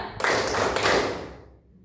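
Students in a classroom burst into a short round of hand clapping that swells quickly, holds for about a second, then fades out.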